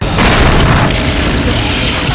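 An electrical transformer blast effect rigged for a movie shoot, throwing sparks, heard as a loud, dense explosive roar that holds steady for about two seconds without fading.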